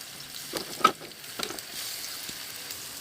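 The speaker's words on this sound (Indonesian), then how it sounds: "Kita goreng dengan api kecil." Bananas sizzle and fry in a small amount of oil over low heat, a faint crackle with a few louder pops and stirring clatters, no voices.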